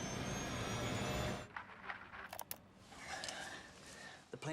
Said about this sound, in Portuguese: O avião está caindo. Dá para ouvir os motores.